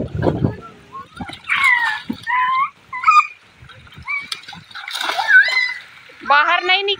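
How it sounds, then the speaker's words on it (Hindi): Children splash in a makeshift outdoor swimming pool, water slaps and splatters between excited high-pitched children's voices and shouting. "हम लोग का इधर स्विमिंग पूल दिखाते हैं, नहा लो नहा लो"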